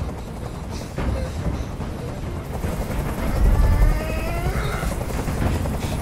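A helicopter in the video game Detroit: Become Human gives off a continuous rumbling drone that swells a little partway through, with faint wavering tones layered over it and no voices.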